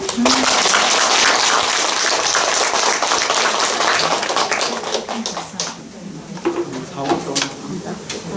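Applause from an audience at an invited lecture during a temple's special winter-retreat prayer session: a dense, sustained wash of clapping that holds steady, then thins into scattered claps toward the end.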